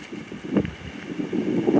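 Strong gusting wind buffets the microphone beside the New England Highway between Glen Innes and Tenterfield, a low rumbling roar that swells and surges in uneven gusts throughout.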